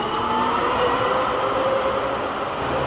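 Munich tram running along its rails past a platform by the road, a steady rolling rumble with faint wheel tones, close and continuous, no talk.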